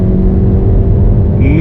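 Engine of a 2024 Skoda Kodiaq 1.5 TSI Sportline, a front-wheel-drive SUV, pulling hard from a standstill toward 100 km/h. A loud, steady close drone with a pitch that starts climbing near the end.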